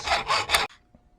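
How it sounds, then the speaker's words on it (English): A hacksaw opening up a slot in a metal piece: three quick, close rasping strokes in steady rhythm, then the cutting stops and near silence follows. "So I decided I'd just open that slot up on the metal piece a little bit with a hacksaw"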